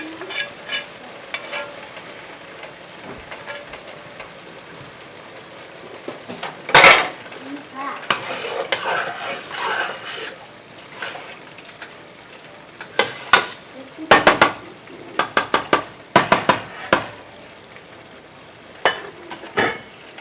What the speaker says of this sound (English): So let's let it simmer a little bit longer here and decrease the heat.